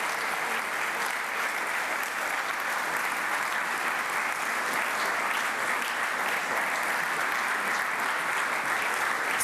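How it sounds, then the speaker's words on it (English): At a startup demo day, a crowd gives a final round of applause, dense and even, a continuous wash of clapping with no break. "get the well-deserved final round of applause"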